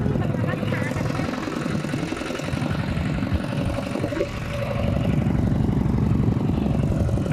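A tractor engine runs steadily throughout at close range with a dense, rough low-end chug, its level dipping briefly midway before rising again, while voices talk over it.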